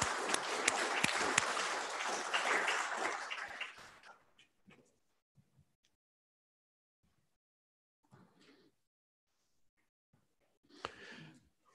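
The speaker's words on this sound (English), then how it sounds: "A round of applause, please." Council meeting applause greeting a newly elected deputy mayor, a dense burst of clapping that fades out after about four seconds, followed by near silence with a few faint rustles and brief murmurs.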